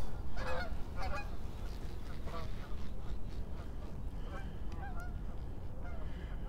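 A flock of geese flies overhead on a sunny morning, honking repeatedly at a moderate distance over a steady outdoor rumble like wind.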